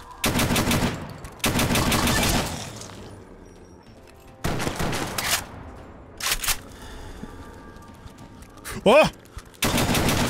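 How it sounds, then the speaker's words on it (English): Bursts of gunfire in the video game Fallout: Tale of Two Wastelands, with several loud rapid volleys separated by short pauses, and a startled voice exclaiming briefly near the end. "Are you shooting at me?"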